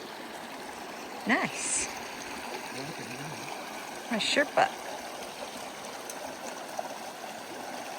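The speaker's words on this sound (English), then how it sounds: "Mountain water right here." Mountain stream water flows steadily near an alpine lake, a soft continuous trickling wash running quietly throughout, with brief bursts of nearby talk over it.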